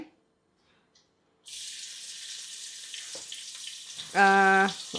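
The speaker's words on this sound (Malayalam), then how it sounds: "ഫസ്റ്റ് നമുക്ക് സവോള വറുത്തെടുക്കാവേ" Onions frying in ghee give a steady, close sizzle that starts suddenly after a silent opening and runs to the end, with a short tonal beep near the finish.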